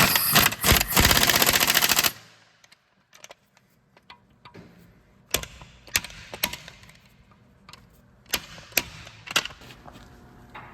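A wrench works the brake caliper bolts on a 2010-2014 Subaru Outback 2.4L during a front brake job, giving a loud burst of rapid ratcheting, then scattered sharp clicks and taps nearby.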